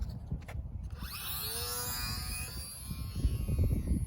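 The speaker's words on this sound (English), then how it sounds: "So it's flying out right now." Small mini RC race plane with electric motor flying outdoors in calm air after a hand launch, a thin high whine sweeping up and down in pitch as it passes, over steady low outdoor rumble.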